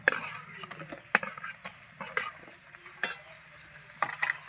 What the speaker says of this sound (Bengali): মশলা সবসময় দই দিলে দই এইভাবে নাড়তে হবে